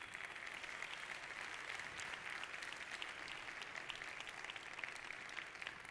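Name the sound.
audience applause for Professor Muhammad Yunus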